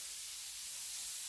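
A large white onion sizzles in melted butter in a pan as it starts to caramelize for a keto green bean casserole, a soft, even, quiet hiss with no talking.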